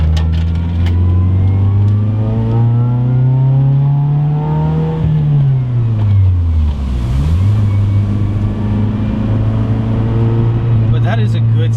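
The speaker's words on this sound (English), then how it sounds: "But that is a good sounding motor." Mitsubishi Eclipse engine fitted with headers revs up and down loudly and close, a steady droning pitch that climbs, sags and rises again over several seconds, with no voices.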